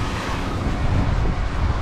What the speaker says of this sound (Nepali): हावा चलिरहेको छ क्या, हावाले छाता उडाउला जस्तो भइरहेको छ